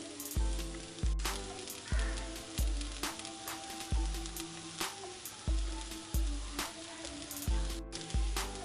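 A spoon stirs chicken and vegetable filling for spring rolls in a frying pan: a steady sizzle is broken by regular scraping strokes about twice a second, close and clear.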